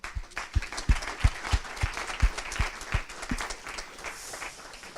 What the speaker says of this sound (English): Big round of applause for them as well.